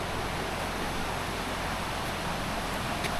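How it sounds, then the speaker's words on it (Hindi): River water rushing over stones in Betab Valley, Kashmir, in winter: a steady, broadband hiss of flowing water, close and unbroken throughout. "ये जो पानी की आवाज़ है ना"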